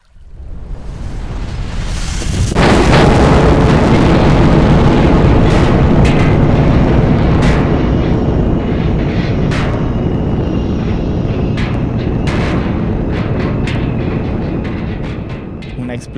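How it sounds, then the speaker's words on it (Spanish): Explosion sound effect set at night near a river by Chernobyl, a huge deep boom that swells within a few seconds into a long, loud rumbling roar, sustained for over ten seconds and slowly easing off. "Una explosión retumba sobre todo el ambiente."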